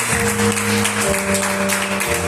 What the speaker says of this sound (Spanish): le dan un fuerte aplauso al Rey de Reyes, Señor de Señores?